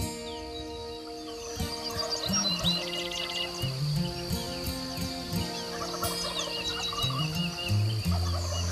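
Several wild turkeys gobble along a ridge in the woods, their rattling calls overlapping one after another at varying distances, with small birds chirping in the background.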